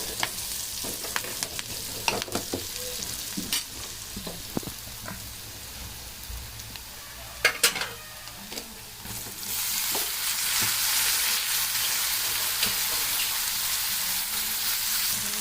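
Eggplant fries in a pan while a utensil stirs and taps against it, occasional clinks over a soft sizzle that swells into a loud, steady hiss in the second half.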